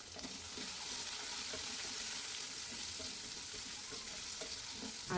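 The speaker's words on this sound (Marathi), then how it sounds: "आता पुन्हा एकदा आपण परतून घेऊया भाजीला." Raw mango vegetable curry, a Khandeshi dish, stir-fries in a pan with a steady close sizzle and occasional scrapes of stirring, no voices.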